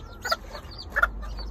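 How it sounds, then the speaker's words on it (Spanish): A hen with newly hatched chicks gives a couple of soft, short clucks close by, with faint background noise between them. "Y finalmente la gallinita ya terminó de sacar pollitos"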